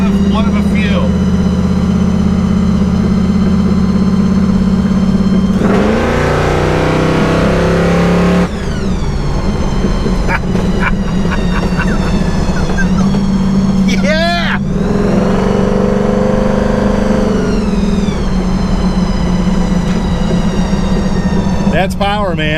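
A 1953 Willys Aero Falcon dragster engine roars and revs up and down repeatedly, loud and close, with pitch rising and falling across several throttle bursts.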